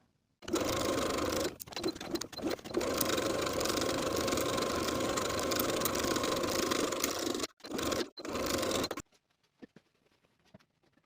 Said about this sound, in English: sewing along the curved edge all the way to the opposite side